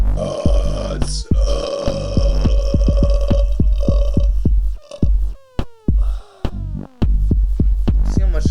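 A man lets out a long series of deep, loud belches, one after another in rapid rhythmic pulses with brief gulping pauses between runs.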